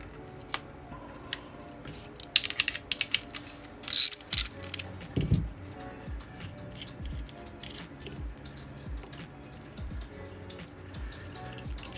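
A ratcheting wrench tightening nuts on skateboard wheels mounted to the trucks, with a close run of fine mechanical clicks, several louder knocks near the middle, and soft clicking throughout.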